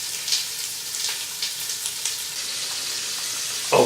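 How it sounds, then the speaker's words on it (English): Onions sweat gently in a pot for Maryland-style crab soup, a soft steady sizzle with light crackles and a brief louder stir at the end, close and with no talking. "I don't want to brown them. I don't want to give them any color. This is called sweating down."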